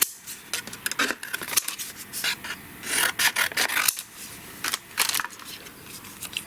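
Craft paper being trimmed down for a card, with quick close rasping and rubbing strokes in irregular bursts and short gaps between them.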